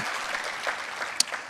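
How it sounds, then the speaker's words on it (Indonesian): Congregation applause during a church service, a dense continuous wash of clapping with one sharper clap standing out near the end, brief and moderately loud. "Berikan tepuk tangan kita untuk Tuhan kita."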